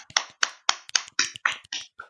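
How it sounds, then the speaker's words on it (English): A run of about nine sharp hand claps in a steady, brisk rhythm, close and fairly loud, with no talking. "Those were just normal claps, not claps that mean I have to edit something"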